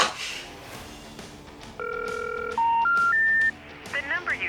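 A telephone number being dialed: a short run of steady touch-tone beeps of differing pitch, each held briefly, followed by quick chirping tones.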